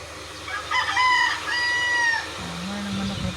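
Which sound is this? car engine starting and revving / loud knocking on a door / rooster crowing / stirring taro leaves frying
rooster crowing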